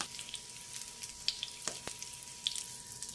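Nopal and ground meat patties fry in a pan with a faint, steady sizzle and scattered small pops and crackles, close up and soft, with no talk.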